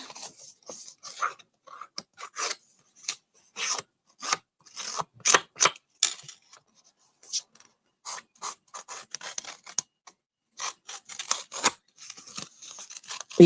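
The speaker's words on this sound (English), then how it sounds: "this paper, I'm gonna cut at the same measurement." Scissors snip and slice through paper for handmade card making over a glass mat, a close, irregular run of crisp cuts and rasping scrapes with brief pauses between strokes.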